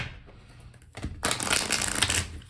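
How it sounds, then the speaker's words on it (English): A tarot card deck being shuffled by hand: a soft rustle that swells into a dense, continuous riffle of cards, close and fairly quiet, with no talking. "One more shuffle."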